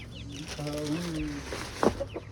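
Rooster clucking in short wavering calls, with a sharper burst near the end, over low background voices and ambient noise on a Punjabi farm.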